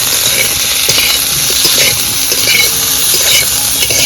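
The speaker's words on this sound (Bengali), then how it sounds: "লবণ হলুদ গুঁড়ো এবার ভালো করে ভেজে নেব" Small pool barb fish and water lily stems fry with salt and turmeric in a hot pan, giving a loud, steady sizzle with scattered clinks and scrapes of stirring throughout.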